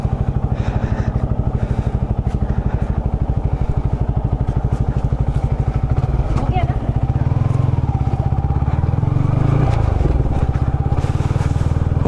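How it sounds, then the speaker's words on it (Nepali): A motorcycle engine cold-starts and settles into a close, steady chugging idle, with a deeper surge partway through. "अहिले बाइक कोल्ड स्टार्ट गरिरहेको बेलामा"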